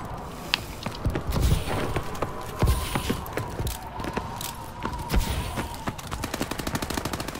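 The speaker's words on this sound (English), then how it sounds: "I hear gunfire" Gunfire in the Call of Duty: Advanced Warfare multiplayer game: repeated sharp shots and short automatic bursts, some near and punchy, others lighter, spread unevenly across the clip with faint mechanical clicks between.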